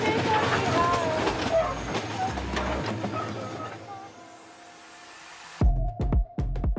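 Train in the Democratic Republic of the Congo, heard from inside the driver's cabin while riding the rails: steady rumble and clatter with faint voices, then louder rhythmic wheel thumps near the end.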